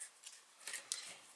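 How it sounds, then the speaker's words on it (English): Favourite crafting scissors snip through gold shimmery trim in a few quick, crisp cuts close by, quiet and without speech. "let me get my Close to My Heart scissors that are my favorites"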